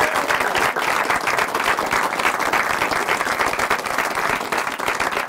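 An audience applauds after a magic trick, sustained steady clapping from a crowd, loud and close, with no voices over it.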